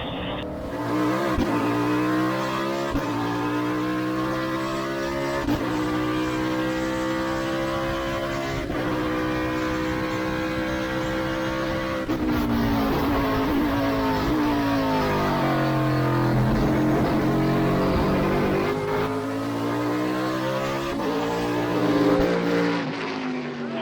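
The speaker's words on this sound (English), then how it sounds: "Paul, outside of Dyson, those cars, you are like 5 seconds a lap faster than they were, so you're going to come up on them quick" Trans Am race cars lap Charlotte Motor Speedway, engines roaring continuously with rising and falling pitch as cars pass and shift, loud and sustained throughout with overlapping engine notes.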